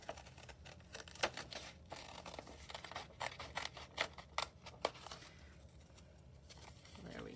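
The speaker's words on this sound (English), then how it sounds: "So I've got my scissors." Paper is snipped with scissors in a run of crisp, irregular cuts at close range, for a hope tree paper craft, fading toward quieter rustling at the end.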